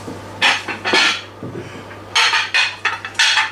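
Plates are set down and moved about in a kitchen while filled eggs are prepared, giving several sharp clinks and knocks in irregular clusters, close and fairly loud.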